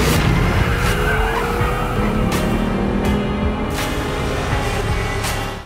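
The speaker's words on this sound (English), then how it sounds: "Coming to a screeching halt" Kia Stinger sports sedan in a Super Bowl commercial, tires screeching as it is driven in reverse and brought to a halt, a loud sustained squeal over engine roar with no voices.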